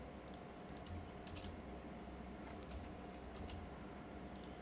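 Computer keyboard typing in short bursts of key clicks over a steady low background hum, moderately close and fairly quiet, with no speech.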